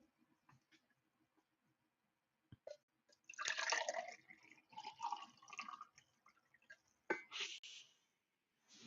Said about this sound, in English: Sorry, I'm refilling my water.